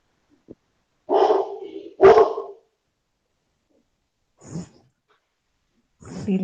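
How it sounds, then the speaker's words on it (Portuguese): A dog barks several times, two sharp close barks followed by quieter, more distant ones after a pause, in an otherwise quiet room. "meu cachorro late"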